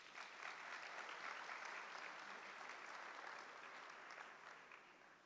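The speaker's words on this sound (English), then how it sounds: "A round of applause, please." Sustained applause from a large graduation ceremony audience at an engineering faculty, a steady dense wash of many hands clapping that holds for several seconds and fades slightly at the end.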